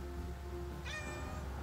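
A farm cat gives a single clear meow midway through, close to the listener, over a steady low background hum outdoors while raised garden beds are being built from reclaimed wood.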